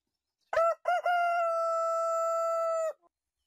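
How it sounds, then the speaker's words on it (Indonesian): A rooster crows once, loud and close: a short broken opening followed by a long sustained call of about two seconds, alone against silence. "Seketika itu juga berkokoklah ayam."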